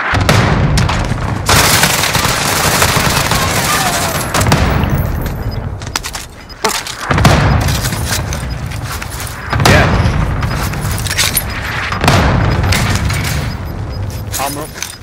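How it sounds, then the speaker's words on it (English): A video game cluster strike, with a barrage of booming explosions and crackling gunfire rolling almost continuously, punctuated by brief gaps, loud and close, with voices talking over the chaos. "Allied cluster strike inbound. Coming in on us now, cluster strike."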